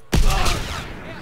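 Gunfire in Call of Duty WWII multiplayer, a sudden loud close burst of shots that rings out and decays over a second, with no talk over it.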